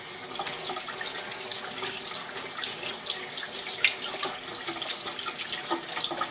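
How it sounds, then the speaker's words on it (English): A steady stream of cold tap water runs over four raw eggs being rinsed in a sink, a continuous close splashing hiss with small uneven spatters and no talk. "So we're going to rinse these 4 under cold water"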